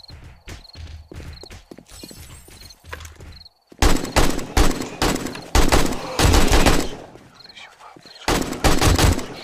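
Rapid bursts of gunfire in the video game 7 Days to Die, some single shots and some sustained volleys, loud and close, broken by short pauses.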